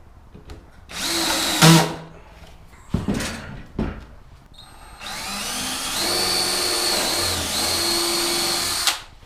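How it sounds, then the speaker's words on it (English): A power drill drilling pilot holes in wood whines in several bursts, short spins then a long steady run, close and loud, with brief pauses and knocks between. "Now I'm putting my pilot holes at the top."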